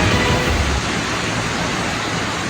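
Rushing floodwater of a swollen river in Barangay Doles, Magpet, Cotabato, after heavy rain, a loud, steady broadband roar that is slightly stronger at the start, with no voices.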